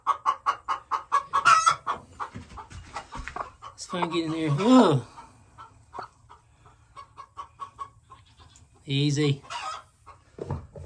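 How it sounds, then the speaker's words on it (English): Chickens cluck and squawk inside a backyard coop, with bursts of agitated calls and a loud squawk or two, while people talk nearby throughout. "Crazy chickens."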